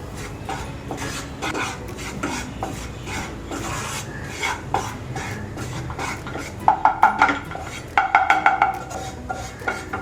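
Three to four spoons of turmeric dry-roasting in a pan for Khandeshi raw mango pickle, with a spoon scraping and rubbing against the pan and a quick run of sharp metallic clinks near the end.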